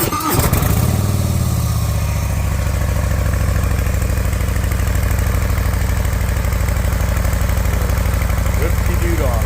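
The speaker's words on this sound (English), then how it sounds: "2023 Harley Davidson Breakout 117 motor, factory exhaust. Here is the start." A 2023 Harley-Davidson Breakout with the 117 motor and factory exhaust fires up with a brief cranking burst, then settles into a loud, steady, close-up idle with a deep, even lumpy throb for the rest of the clip.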